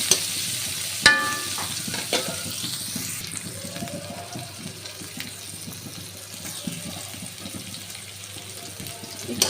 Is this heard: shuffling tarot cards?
no